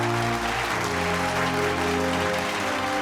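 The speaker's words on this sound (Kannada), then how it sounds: "ಆ ದಿವ್ಯ ಚೇತನ ನೆನಪಿಗೆ ಒಂದು ಚಪ್ಪಾಳೆ" A studio audience on a Kannada TV celebrity talk show applauds in tribute with a steady, continuous clapping wash. Sustained musical tones play underneath.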